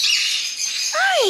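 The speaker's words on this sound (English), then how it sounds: "Beautiful birds." Pet birds in a bird store let out sharp, shrill squawks and chirps close by, with a rising and falling call near the end of the short burst.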